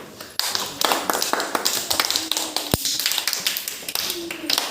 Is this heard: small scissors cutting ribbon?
no